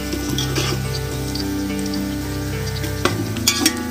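Chopped onions fry in oil until golden brown for chicken haleem, giving a steady, close sizzle with a low background hum and a few sharper clinks near the end.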